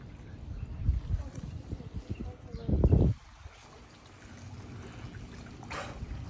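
A burst of water splashing up close from a dolphin around the three-second mark, set against a low rumble of moving water, boat noise and background voices.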